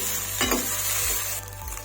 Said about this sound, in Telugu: ఇప్పుడు ఈ విధంగా అంతా మొత్తం బాగా కలుపుకోవాలి.